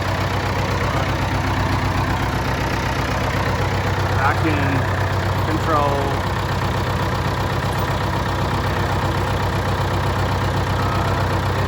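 A tractor fitted with a blade idles steadily and fairly close on a rural road, a low continuous engine drone running throughout while someone talks over it.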